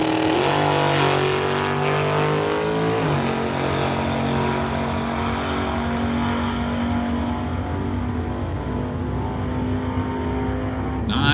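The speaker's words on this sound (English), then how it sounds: "Takes that little roadster through the top end." A Ford Roadster drag racer in an NHRA Summit ET Series race blasts down the track, its loud, sustained engine roar holding high, dipping briefly at a gear change, then continuing strong and close, with no talking.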